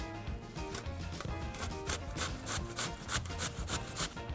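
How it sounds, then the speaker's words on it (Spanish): Cucumber with its skin left on is rubbed against a grater in quick repeated strokes, about a dozen rasping scrapes in steady rhythm, close and fairly quiet, with no talk. "nuestro pepino lo vamos a rallar. Lo vamos a rallar con todo y cáscara."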